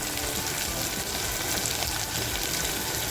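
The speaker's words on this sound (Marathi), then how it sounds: "आणि ती सुद्धा अशी छान फ्राय करून घ्यायची" Mutton pieces and rendered fat fry in a pan with a steady, dense sizzle that holds loud and unbroken throughout, close by and with no voices.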